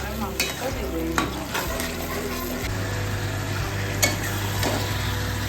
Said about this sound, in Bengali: মশলাটা দিয়ে দিয়েছি, নাড়াচাড়া করে তারপরে মাংসটা দিয়ে দিয়েছি